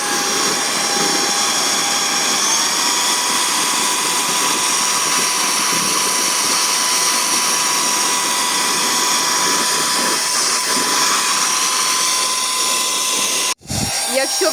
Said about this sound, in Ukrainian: Зажали кнопочку. Це сама маленька швидкість.